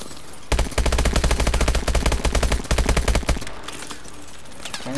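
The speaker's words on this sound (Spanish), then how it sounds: "Están solo disparando" Automatic weapon fire in Call of Duty: Advanced Warfare, a loud, close, rapid burst of shots lasting about three seconds, then a brief lull with a few scattered sounds.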